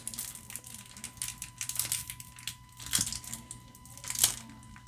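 Crinkly foil of a trading card game booster pack being torn open, with sharp crackling crinkles and a few louder rips spread across the stretch, close up and without talk.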